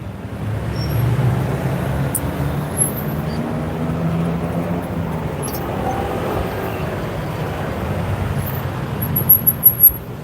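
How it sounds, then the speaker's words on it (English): Heavy street traffic: a continuous low rumble of passing vehicles, fairly loud and steady, with a few sharp clicks or knocks close by near the end. "I'm out here in a lot of traffic. So there's lots of noise."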